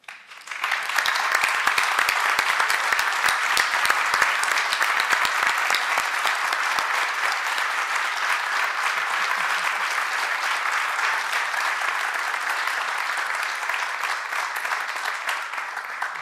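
Sustained audience applause fills an assembly hall, dense and steady from start to finish at a strong, even level, with no voices standing out.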